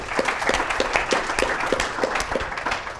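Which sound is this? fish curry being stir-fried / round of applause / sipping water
round of applause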